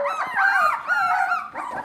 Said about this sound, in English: Little puppy.